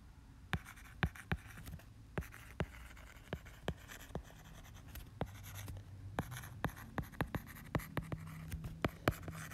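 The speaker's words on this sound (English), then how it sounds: "I'm going to write it in just one direction" Marker or chalk strokes on a board, a steady series of short scratchy taps and drags in an uneven writing rhythm, close and fairly quiet over faint room hiss with no talking.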